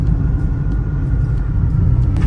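Inside a car being driven roughly at no more than about 60–70, a loud, deep engine and road rumble fills the cabin continuously, with a few faint knocks on top.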